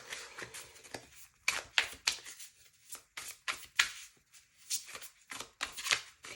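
Tarot cards are handled and shuffled up close, giving quiet bursts of riffling and sliding card noise in irregular clusters separated by brief pauses, with no voices.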